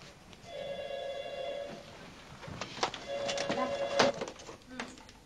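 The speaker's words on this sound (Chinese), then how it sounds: "你的电话。" A telephone bell rings in two bursts, separated by a short pause, indoors in a home scene from a Chinese TV drama. Some voices and household noise are heard faintly around it.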